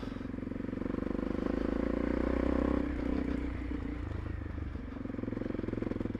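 A Honda CRF300 Rally motorcycle lugs along at low revs in third gear on a trail, a steady pulsing thump close by with clattering chassis noise and a slight easing partway through.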